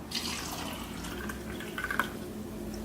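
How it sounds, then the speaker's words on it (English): Fruits and vegetables rinsed under regular running tap water at a sink, a steady hiss of flowing water with small splashes and drips as the produce is moved about. "we're going to show you what comes off your produce, your fruits, your vegetables when you wash them off with regular tap water"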